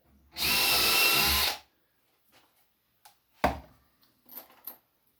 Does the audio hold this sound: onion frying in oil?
no